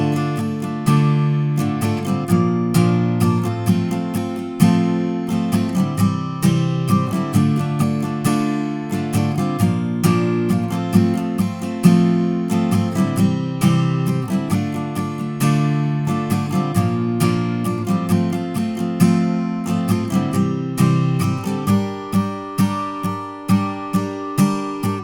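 Strummed acoustic guitar playing the chorus chords of a song, a steady rhythmic strumming pattern with bright chord attacks, close and alone without any voice.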